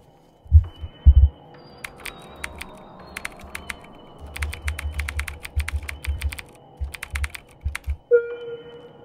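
Keyboard typing heard during a horror game exam session, with bursts of clicky keystrokes in clusters over a low thumping hum, plus a brief tone near the end.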